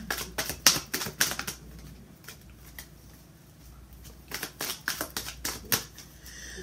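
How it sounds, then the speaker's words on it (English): Tarot cards being shuffled in quick bursts of crisp riffling clicks, loud and close, with a quieter pause in the middle before the shuffling picks up again. "So while I'm shuffling"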